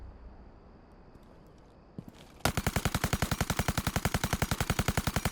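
Rapid automatic fire from a light machine gun in Rainbow Six Siege bursts in after a brief lull, a loud, evenly spaced stream of close shots rattling on without pause, no voices over it.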